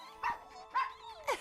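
Puppies give three short, high yipping barks, evenly spaced and close, with no talking.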